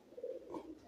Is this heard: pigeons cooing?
yes